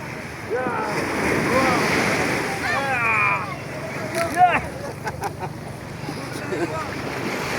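Sea waves wash onto Sugandha beach at Cox's Bazar on a morning, with surf rushing and swelling under wind noise while people talk and call out nearby.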